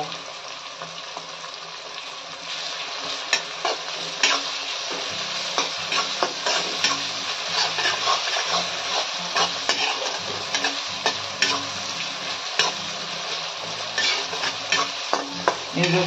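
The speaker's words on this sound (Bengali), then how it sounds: "পেঁয়াজ রসুন কষানো হচ্ছে" Steady loud sizzling of onion and garlic frying in oil for fish-head moong dal, with occasional scraping and clinks of a spoon stirring the pan throughout.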